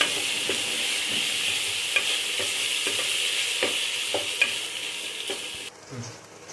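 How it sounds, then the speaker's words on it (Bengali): Ginger paste sautéing in a pan for rui fish-head moong dal: a steady, close sizzle of frying, broken by regular scrapes and taps of a spatula as it is stirred, with no voices. "আমি 1 চামচ মতো এটা আদা দিয়ে দিচ্ছি, আদা বাটা। এটাকে ভালো করে আমি কষতে থাকবো।"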